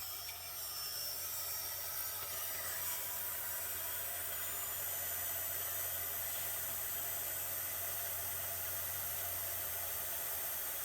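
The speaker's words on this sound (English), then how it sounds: "a good way to do that is with the heat gun." Heat gun blows hot air onto a plastic model ship part, a continuous faint, even hiss that holds steady for the whole stretch with no talking.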